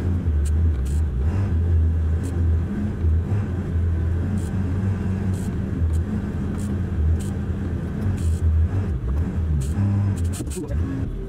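A truck engine rumbles low and steady while backing up through a forest toward a log, avoiding stumps, with a loud, continuous drone that swells slightly at times.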